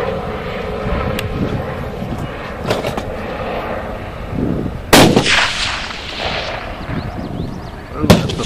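Rifle shots from a .300 Win Mag fired at a 1,000-yard target ring out as several sharp cracks over a few seconds, loud and close, over steady wind and background hiss.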